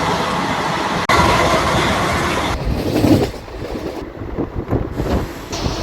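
A train runs through Nandalur railway station without stopping on the Tirupati to Charlapalli route, heard from on board as a steady, loud rumble and clatter with a sharp click early on, easing to a rougher, quieter rolling.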